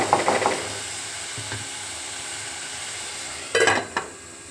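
A tomato, onion and green chili curry is stirred in a pan under a constant sizzle, with bursts of scraping and clattering from the utensil at the start and again near the end, and no talking.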